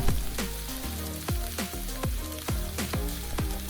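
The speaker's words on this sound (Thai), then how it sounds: "เราจะผัดจนกว่ากระหล่ำปีและแครอทสุกและนิ่มก่อนนะคะ" Shredded cabbage and carrot are stir-fried in a pan. A loud, continuous sizzle is broken by regular scraping strokes of the spatula about twice a second, close up and with no talking.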